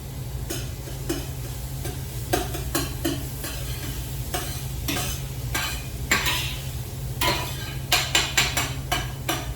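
Garlic and onions frying in oil with rosemary, a steady sizzle broken by repeated scraping and stirring clacks of a utensil against the pan, close and fairly loud.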